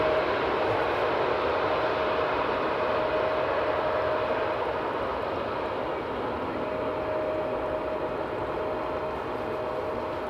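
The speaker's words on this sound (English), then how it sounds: "For the A220 that is approaching quickly" An Airbus A220 airliner on approach to Amsterdam Schiphol produces a steady broad jet roar with a faint whining tone, sustained and fairly distant at an even level throughout.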